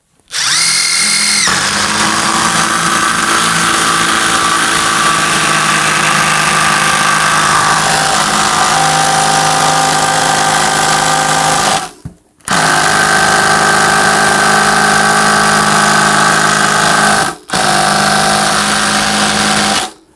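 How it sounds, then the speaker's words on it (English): A Panasonic impact driver drives a 120mm screw with a loud, sustained whirring hammer rattle, broken by two brief pauses before it runs on again. "That's the Panasonic. And it's a 120mm screw, and it stopped driving there"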